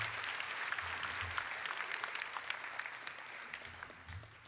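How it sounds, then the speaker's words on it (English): Audience applause fills a school class night ceremony, a steady wash of many hands clapping continuously at moderate distance, with no talk over it. "Another round of applause."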